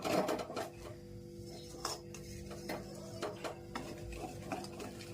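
Urad flour, mixed with some wheat flour for sukhdi, is roasted in a pan, with a spoon scraping and knocking against the metal in soft, irregular strokes and a faint, quiet background.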